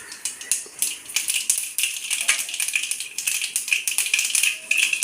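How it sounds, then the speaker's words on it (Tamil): Dense, rapid crackling and popping of mustard seeds spluttering in hot oil, continuous and close, with sharp irregular snaps throughout. "கடுகு வெடிச்சிக்கிட்டு இருக்கு."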